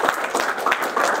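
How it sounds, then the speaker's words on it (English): An audience applauds at the close of a design talk, a brief steady patter of many hands clapping, moderately loud with no talking over it. "I'm going to give you guys a round of applause for participating and give yourself a hand"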